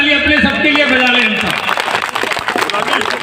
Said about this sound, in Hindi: एक बार जोरदार ताली अपने सबके लिए बजा लें।